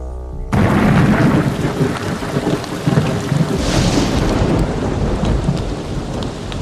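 Heavy rain pours down at night on soldiers camped before a battle, with rolling thunder; a loud, dense, steady downpour hiss under deep rumbling booms, continuous throughout with no voices.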